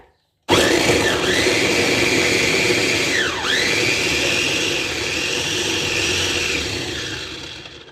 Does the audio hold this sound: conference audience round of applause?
no